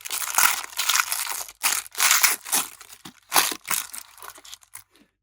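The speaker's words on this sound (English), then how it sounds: "We got the nice little wax packaging like they kept on giving us with G.I. Joe." Wax packaging around a Masterverse Gwildor and Orko action figure is handled at close range, giving loud crinkling and crushing rustles in about eight separate bursts with short pauses, and no voices.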